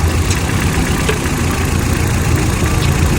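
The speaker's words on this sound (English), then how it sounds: "Car still idling." A Ford Figo's engine idles steadily with one terminal disconnected, a continuous low rumble with even, slightly rough texture, close and fairly loud throughout, with no talking.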